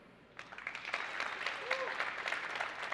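Quiet applause from an audience at a Windows 10 deployment and management tech conference session breaks out after a brief hush, then rolls on as a soft, fairly distant patter of many hands.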